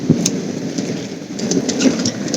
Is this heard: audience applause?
no